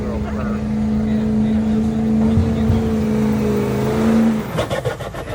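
A factory 6-liter pulling truck engine idles at an outlaw-class truck pull at Anderson County Fairgrounds, Tennessee, a steady deep rumbling hum close by, with a voice talking over it before the engine note drops away.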